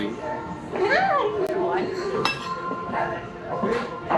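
Knife and fork clink against a plate while someone cuts into a thick Chicago deep dish pizza, a few light metallic taps beneath close conversation.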